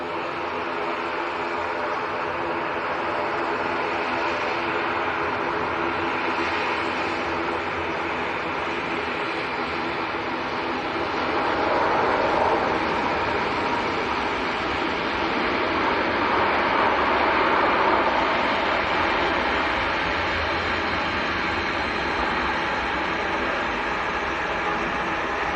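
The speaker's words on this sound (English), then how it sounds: "Here it comes, Emirates from Dubai" An Emirates airliner from Dubai arrives at Manchester Airport, a broad distant roar that swells midway and holds steady, heard from afar without talk.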